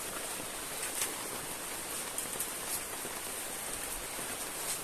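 Steady heavy rain hisses down, a dense wash of drops with occasional louder splashes close by.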